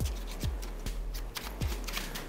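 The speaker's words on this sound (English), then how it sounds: "Give those cards a good shuffle." A deck of playing cards riffle-shuffled several times in quick bursts, crisp and close, with short pauses between each shuffle.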